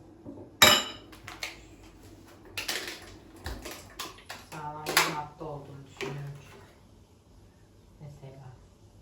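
A sharp clatter opens, followed by scattered clinks, rattles and knocks of frozen raspberries tumbling into a metal pot, irregular and close, with some talking.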